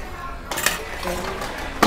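A metal utensil clanks against a pan while shredded pork is stir-fried at a small Thai food stall, giving a few sharp, separate knocks over a soft, steady background hiss.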